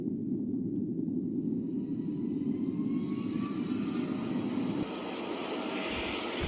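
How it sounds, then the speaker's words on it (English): Concorde airliner rolling along the ground in a video game, a loud, continuous roaring jet engine rumble with a rising whine, steady and close before dipping slightly near the end. "There's a Concorde plane speeding on the ground"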